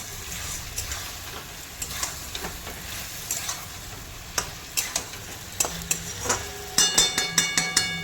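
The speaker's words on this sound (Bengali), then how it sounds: "এই জলেই আমি আস্তে আস্তে করে মশলা কষাবো" Chicken curry spices being fried and stirred in a pan, giving a continuous low sizzle with repeated spatula scrapes and taps against the metal that grow louder and faster toward the end, close and without talk.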